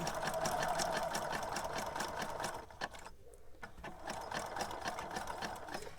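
A sewing machine stitches burlap leaf ribbon in a steady, fast mechanical whir. It pauses briefly midway, then starts again, running close and continuous with no voices.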